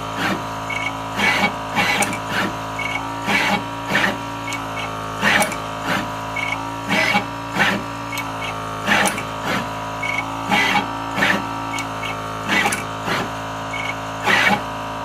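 A pick and place machine picking up MOSFETs runs a repeating mechanical cycle, regular bursts of whirring motor and clicking heads roughly every second over a constant electrical hum, close and fairly loud.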